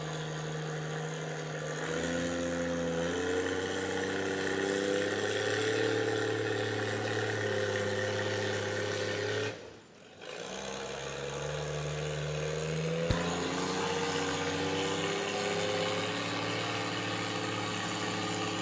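A tractor engine labors steadily under load at a barnyard tractor pull at Georgetown Fair, a deep, sustained drone that briefly drops out near the middle, then picks back up and pulls on.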